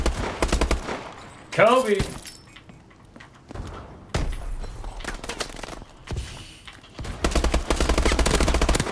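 Rapid bursts of dual gunfire in the video game Conker, rattling in clusters with pauses between volleys, while a player shouts briefly over the shooting.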